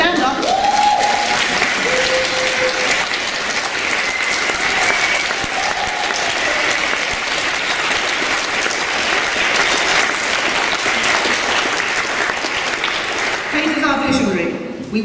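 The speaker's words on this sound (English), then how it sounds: "I do want to single out one person, though, for a bit of applause." An audience at a talk in Glasgow applauds a woman singled out for thanks, warm continuous clapping that carries on for about fifteen seconds, with brief voices and cheers mixed in early and again near the end.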